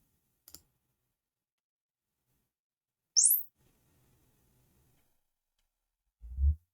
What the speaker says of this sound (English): You'll probably hear the chirp on the mic and then a low frequency subsweep.